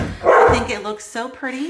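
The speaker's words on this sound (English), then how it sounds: "if you hear my dog barking, it's because she's playing with the kitty cat." A pet dog barks in short bursts while playing with a cat indoors, yips rising close and loud, with a voice talking alongside the barking.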